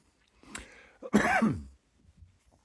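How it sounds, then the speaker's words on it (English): A single short, harsh cough burst with a throaty rasp, close to the microphone, after a brief softer vocal noise, then quiet. "Excuse me for the cough."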